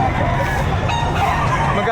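Roosters crow and chickens cluck close by at a poultry market in Batangas, the calls rising over a busy background while a person talks.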